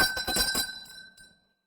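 A bright bell rings with a few rapid metallic strikes, then a clear sustained tone rings out and fades to silence within about a second.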